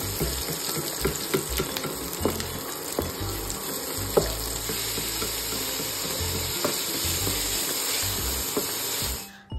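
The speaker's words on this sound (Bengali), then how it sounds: "বয়েলড চাউমিনটা দিয়ে এবার নাড়াচাড়া করছি" Boiled chowmein being stir-fried in a pan with onion, green chili, capsicum, peas and white oil, producing a steady close sizzle with scraping and clinking stir strokes, then cutting off at the end.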